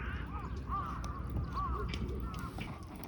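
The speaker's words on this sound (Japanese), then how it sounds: "おお、下でもカーカー夜。 カラス。" Crows cawing around a campsite near Mt. Fuji, a series of several harsh calls at moderate distance over a low outdoor rumble.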